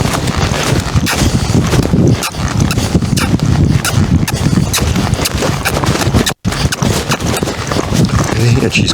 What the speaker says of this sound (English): let me ask her for a lope going this way